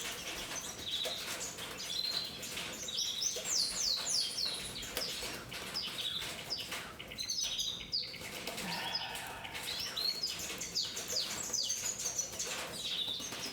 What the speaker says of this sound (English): I wish you would move this bird upstairs.